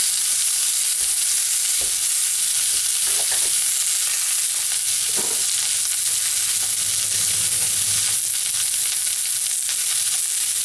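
Onions sauté in a pan for French onion soup, giving a constant loud close sizzle with faint stirring clicks and scrapes over about ten seconds, no voices.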